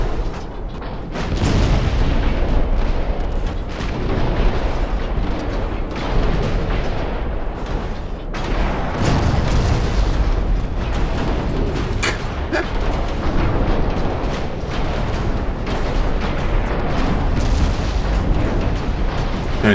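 Three-inch naval guns fire repeatedly during a warship battle in Ultimate Admiral Dreadnoughts, a steady barrage of heavy booms and cracks rolling over one another for nearly twenty seconds, loud and close with rumbling explosions between shots.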